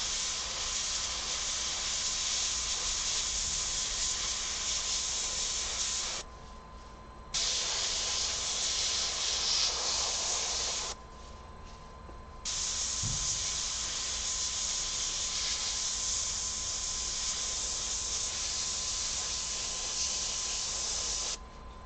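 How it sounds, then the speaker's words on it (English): Airbrush hissing steadily as paint is sprayed over a stencil onto a denim jacket, a close, continuous spray broken by two short pauses where the airflow stops before resuming. "Sometimes you can take a stencil and move it around while you're spraying"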